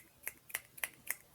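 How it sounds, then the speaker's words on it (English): Five sharp finger snaps ring out at an even, unhurried rhythm, each a crisp isolated click, close but quiet against a near-silent background. "had some finger snaps."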